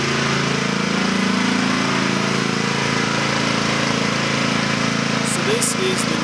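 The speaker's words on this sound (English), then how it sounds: "I know that compressor's a little loud." An air compressor runs steadily in a shop as a loud, continuous mechanical drone throughout, with a person talking over it.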